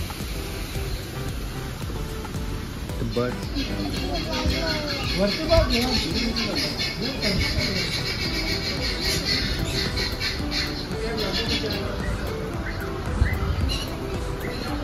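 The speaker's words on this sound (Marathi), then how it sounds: "इथे सगळे पक्षी वगैरे आहेत" Birds squawk and call repeatedly around a resort, sharp chirps scattered through the stretch at close to mid distance, with people talking over much of it.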